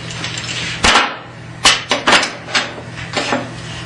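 Metal woodworking clamps picked up and handled in a workshop while setting up a segmented bowl jig, giving several sharp clanks and knocks at irregular intervals over a steady low hum.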